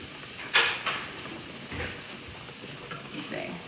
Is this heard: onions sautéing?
yes